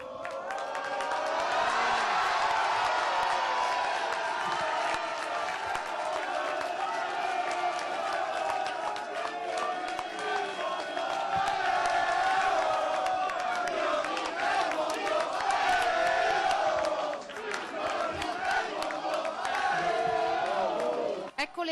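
A crowd of fans at Marco Polo airport in Tessera, Venice, cheering and chanting for an arriving women's volleyball team carrying a trophy, a dense continuous roar with whoops and shouting voices throughout.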